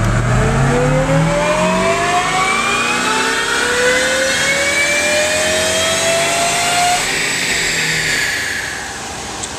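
A Ford GT500 with a JLT carbon fiber intake revs hard on a dyno, its engine note climbing steadily in one long, loud pull for several seconds before easing off.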